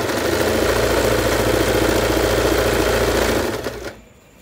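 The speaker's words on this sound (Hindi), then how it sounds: "अब यहाँ पर मैं एक पैर की सिलाई लगा रही हूँ" Sewing machine running steadily while stitching elastic, a loud continuous mechanical whir that stops abruptly near the end.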